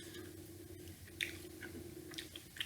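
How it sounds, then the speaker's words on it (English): Close, quiet gum chewing with soft wet squishes and small smacks in an irregular rhythm, with no talking. "tired of chewing that"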